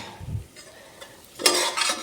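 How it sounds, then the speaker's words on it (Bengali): Onions frying in a home kitchen pan give a short, soft stir and clink, then a bright, close sizzle swells in the last half-second, with no talk. "পেঁয়াজটা একটু ভাজা ভাজা হোক"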